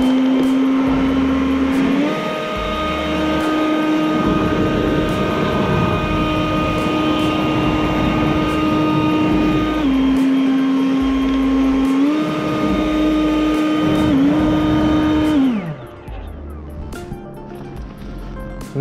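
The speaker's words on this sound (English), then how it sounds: "I picked up this blower at Walmart. It's a Hart brushless, 4 amp hour, 40 volt lithium ion." A Hart brushless 40-volt lithium-ion leaf blower runs loud and steady with a strong tonal whine that shifts pitch a few times, then spins down and cuts out near the end.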